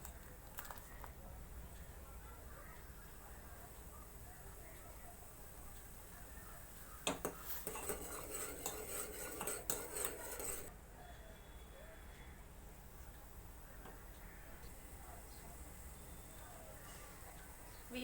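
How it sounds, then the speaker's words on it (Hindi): A spoon stirs masala kadha tea in a pot on the stove, a few seconds of scraping and clinking in the middle against a faint, steady background hiss. "बीच बीच में इसको थोड़ा हिलाते रहेंगे।"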